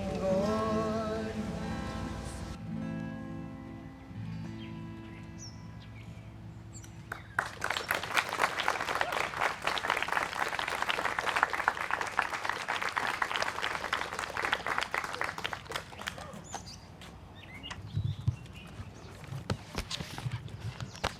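Sung music at a Juneteenth gathering at the John Brown Tannery in Meadville gives way to a burst of audience applause, dense crowded clapping that swells, holds for about ten seconds, then thins out.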